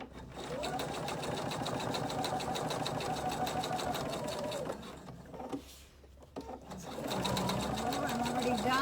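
A sewing machine stitches a cork card holder with a steady, fast mechanical whir and a regular needle beat that pauses briefly midway before starting again, heard close by under quiet talk.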